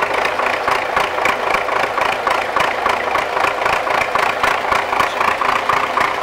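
A tractor's diesel engine, started in winter after preheating, idles steadily with a rhythmic mechanical knock and rattle, loud and close, running continuously without any voices.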